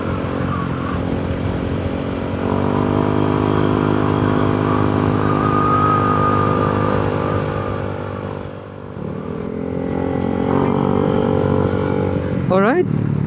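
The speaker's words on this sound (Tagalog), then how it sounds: "Dinig nyo ba yung tunog ng makina?" A motorcycle engine hums steadily while riding, with a strong droning tone and wind rush close to the mic, easing briefly before picking back up, with a sharp rising whine near the end.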